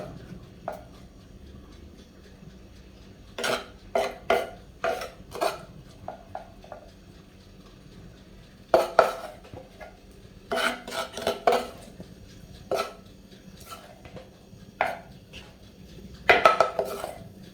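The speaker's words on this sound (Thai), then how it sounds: "เราเปลี่ยนมาเป็นตำหน่อไม้แทนใช้หน่อไม้ตำแทนนะ" Bamboo shoots being pounded in a mortar for a Thai-style salad, giving irregular clusters of sharp knocks and clatters, some in quick bursts, others single, close and fairly loud over a quiet background with no talking.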